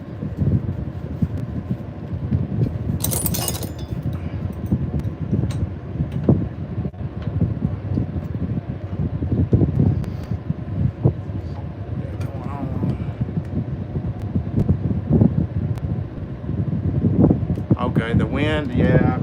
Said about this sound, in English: Okay, the wind, yeah, I've got a fan going.